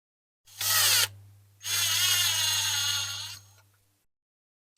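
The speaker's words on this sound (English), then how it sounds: "Just got to take the top off this rivet with a bigger drill." Two bursts of a power drill drilling the top off a rivet on a diecast toy truck, whirring at close range, a short one then a longer steady run that winds down, with a low electric hum underneath.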